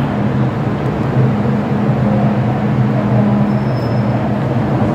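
A Hong Kong MTR train heading toward Tsuen Wan from Central rumbles into the station, a steady low mechanical drone with faint squeals, with no voices over it.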